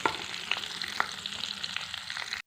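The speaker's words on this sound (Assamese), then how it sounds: "মই কেপচিকামখিনিয়ে পিঁয়াজখিনিয়ে এনেকৈ অকণমান তেলত ফ্ৰাই কৰি ল'লোঁ।" Onions and capsicum fry in a little oil, a soft steady sizzle with occasional crackles and pops, close and quiet.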